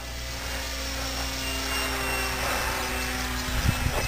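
An 800mm P40 RC model plane from Nitroplanes with tiger-mouth markings flies overhead on its maiden flight, its steady electric motor and propeller whine holding loud and constant for several seconds, with a little wind buffeting near the end.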